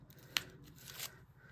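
Scissors trim embroidery stabilizer behind a zipper on a vinyl coin-purse zip bag, a single sharp snip followed by a brief, faint rustle of the material.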